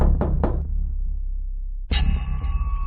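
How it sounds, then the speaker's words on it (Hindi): Knocking on a house door at night: three quick raps close by, then a pause, followed by a brighter ringing thud. "इसलिए गुल्ली एक बार फिर से दरवाजा खटखटाता है।"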